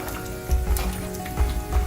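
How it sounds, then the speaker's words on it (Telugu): Garlic cloves frying in hot oil for mango pickle, a steady close sizzle with crackling bursts that swell now and then as the pan bubbles, heard alone with no talk. "ఇవి వేయించాలన్నమాట వెల్లుల్లిపాయలు అనేది"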